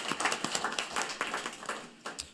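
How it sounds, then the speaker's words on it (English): Meeting audience applauding at a regular council-style session, a steady patter of many hands clapping at moderate volume across the whole stretch, with faint voices underneath. "Them another round of applause."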